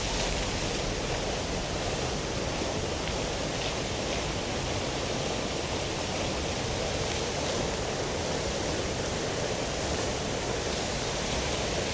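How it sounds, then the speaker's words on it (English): A distant waterfall in a Torremolinos garden, a constant dense roar of falling water holding steady and even throughout without pauses. "And in the distance you can see the waterfall."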